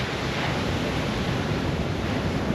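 Pacific Ocean waves breaking along the coast at Casiguran, an unbroken loud roar of surf with wind rushing over the microphone and no voices.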